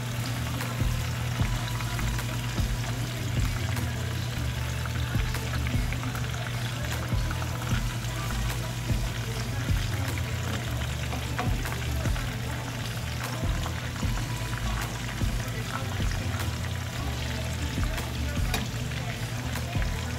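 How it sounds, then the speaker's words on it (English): Chicken pieces and pork riblets frying in a pan over medium heat for Filipino adobo, a steady dense sizzle with faint crackle that holds evenly throughout, no talk over it. "I'm going to go ahead and flip it over. And I'm going to let it fry for another 10 minutes"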